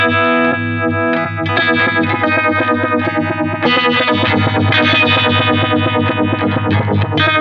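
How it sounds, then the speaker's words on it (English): Electric guitar played through a Univibe pedal set to full depth, giving a thick, chewy, phaser-like warble with a steady pulse across sustained chords and riffs, loud and continuous with no talking. "Univibes almost have this phaser like quality. Let's hear that full depth."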